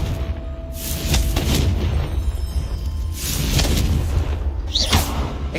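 Confringo blasting spell in Hogwarts Legacy, deep booming explosions with rushing whooshes rolling continuously over a game soundtrack, loud and full, no talk.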